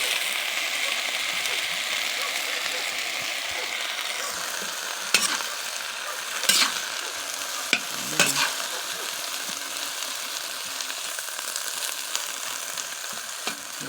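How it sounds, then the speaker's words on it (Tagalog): Garlic, onion and ginger sizzle and fry steadily in a pan, with a spoon scraping and stirring through it in a few sharp strokes. "Igisa lang natin sa ano yan. Bawang sibuyas luya."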